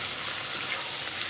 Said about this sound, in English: you definitely want to get that paprika also cooking and browning on the bottom